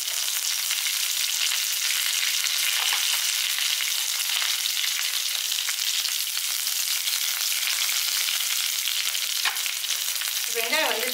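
Ginger, green chili and curry leaves fry in a pan with a constant loud sizzle and a few faint stirring scrapes near the end, heard alone without speech.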